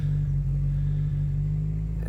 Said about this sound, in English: Start the car now. It's gonna be a lot noisier